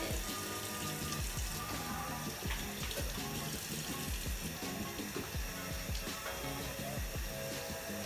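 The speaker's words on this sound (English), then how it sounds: "First we gotta wash our hands." A tap runs steadily while hands are washed, loud continuous water splashing into a sink with small knocks and movement throughout, and no clear talk over it.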